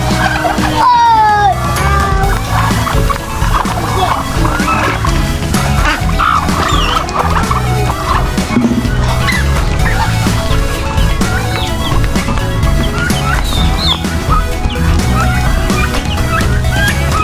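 Farm turkeys gobble and cluck in a busy, loud mix of overlapping bird calls, with other fowl noise and background sounds running constantly throughout.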